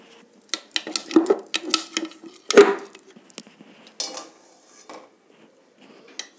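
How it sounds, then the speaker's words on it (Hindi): A big spoon ladles desi ghee into a hot kadhai while sesame-peanut laddoos are being made, producing a scattered series of close metallic clinks and taps with one heavier knock, then quieter scrapes. No talking. "करीब 2-3 चम्मच हम बड़े चम्मच से हम घी डाल रहे हैं।"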